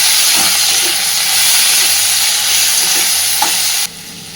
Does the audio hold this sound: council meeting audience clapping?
no